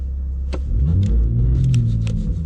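A Toyota Supra engine surges with traction control off, a deep close rumble swelling and rising in pitch for a couple of seconds, with faint tyre scrub and clicks on top and no speech.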